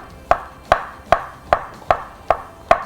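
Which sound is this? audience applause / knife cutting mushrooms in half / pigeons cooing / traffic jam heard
knife cutting mushrooms in half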